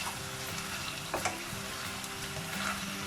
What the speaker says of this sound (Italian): spostiamo un poco le cipolle e continuiamo a far rosolare